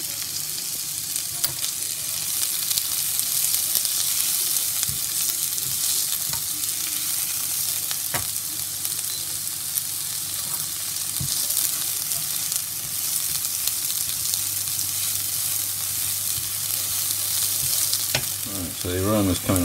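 Szechuan pepper, spring onions and chilli stir-fried in a hot pan give a loud, continuous sizzle with repeated scraping and tossing knocks, close and steady throughout.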